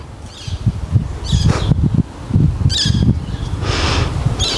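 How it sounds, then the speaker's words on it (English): Birds squawk and chirp outdoors in intermittent bursts over a steady low rumble and rustle, with moderately close calls scattered across the stretch. "Hear all the birds."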